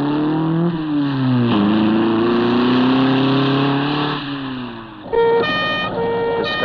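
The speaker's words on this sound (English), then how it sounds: "Step on it, for Christ's sakes. Even if you burn out the motor," A fleeing car's engine revs hard and loud, rising and falling through gear changes over several seconds, before a wailing siren-like tone cuts in near the end.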